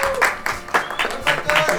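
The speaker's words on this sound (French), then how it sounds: "On applaudit Patricia tout de même." A small studio audience on a French TV entertainment show gives a brief burst of rhythmic, fairly close clapping, with individual claps clearly spaced rather than a dense roar.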